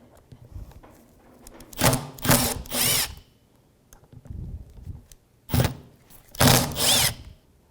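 A power driver fitted with a T25 bit removes screws from the transmission valve body of a Dodge Dakota, giving several short whirring bursts in two clusters separated by pauses, close and loud.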